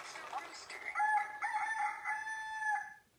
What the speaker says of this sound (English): a rooster says, cock-a-doodle-doo